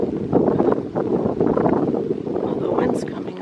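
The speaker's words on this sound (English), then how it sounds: "Oh, the wind's coming up." Gusty wind on a cold, rainy day at a railway line shack buffets the microphone in a continuous loud rumble, with a voice partly buried under the roar.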